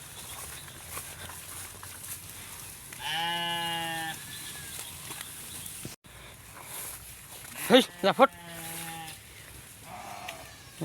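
Desi sheep grazing in a field let out two drawn-out bleats, the second rougher and wavering, over a quiet outdoor background.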